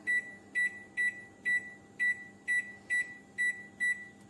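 A kitchen oven, set for 10 minutes while baking homemade wheat and ragi bread, gives nine evenly spaced electronic beeps about half a second apart, clear and close over a quiet room hum.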